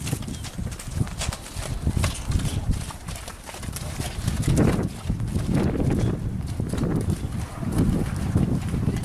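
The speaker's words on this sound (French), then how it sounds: "Voilà, on voit Séverine qui essaye de faire bouger les chevaux, qui les fait bouger." Horses moving about in a round pen: a steady, muffled patter of hooves on soft ground over several seconds, with wind buffeting the microphone.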